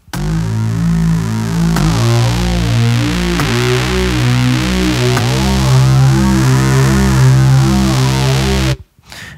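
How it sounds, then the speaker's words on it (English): Sustained distorted synth tones from Ableton Live triggered by a velocity-sensitive electronic drum pad, each shifting to a new pitch at a sharp struck attack, four changes spaced a couple of seconds apart. "And now I get 4 tones, another tone by every hit on my pad."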